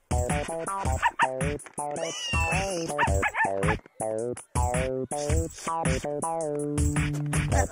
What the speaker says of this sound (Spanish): Ella trajo a mi cachorra al centro comercial.